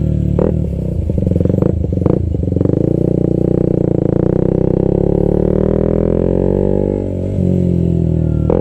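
Small mini dirt bike engine idling and revving on a foggy morning at a mini bike meet, a steady loud droning hum with a few clattering bursts early, then a sustained close rumble.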